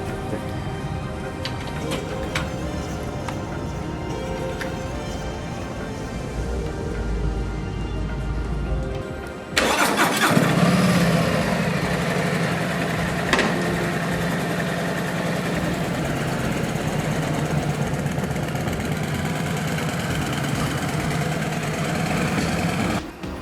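A newly bought motorcycle engine turns over and catches partway through, then settles into a steady, fairly loud idle rumble that continues to the end, with a faint whir before the start.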